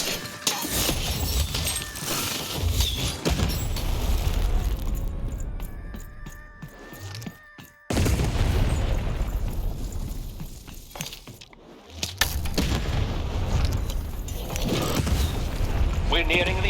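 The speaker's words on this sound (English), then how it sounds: "Shoot the button to fire the cannon." Cannon fire in the video game Lost in Random, heavy booming blasts with shattering impacts over game music and effects, with a sharp break near the middle and loud continuous action throughout.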